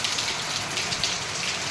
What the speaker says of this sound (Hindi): और इसी टाइम आ चुकी है बाहर बारिश।